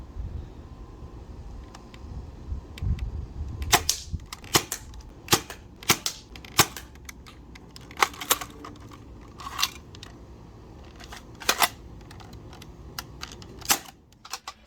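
An AF;TS Aeon Pro foam blaster fires repeatedly, sharp close snapping shots at irregular intervals with quiet handling clicks between them.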